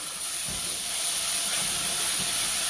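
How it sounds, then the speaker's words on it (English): Hot water poured gently into browned flour in a pan sends up a steady, close hiss of steam, with faint low knocks beneath it and no talking. "pour it real gentle, real slow, because it's going to steam up"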